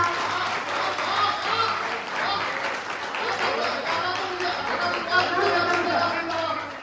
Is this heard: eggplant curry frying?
no